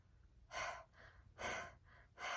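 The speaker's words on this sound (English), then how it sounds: "Breathe out of your mouth and put your hands on your chest." Someone demonstrates breathing through the mouth in a quiet room: three sharp, close inhalations come at a steady pace, each followed by a softer exhale.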